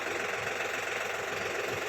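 A New Holland TT3.50 Plus tractor engine idles steadily nearby in a durian orchard, a low, even rumble with a faint knocking pulse and no voices.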